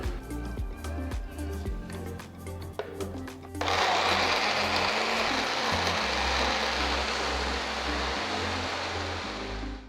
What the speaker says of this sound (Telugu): ఇప్పుడు వీటిని బ్లెండర్లోకి వేసి ఇందులోకి ఒక పెద్ద అరటిపండు అరకప్పు కాచి చల్లారించిన పాలు వేసి మొత్తం బాగా బ్లెండ్ చేసుకోవాలి